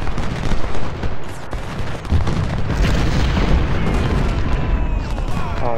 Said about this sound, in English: Oh, there's the Confederate artillery.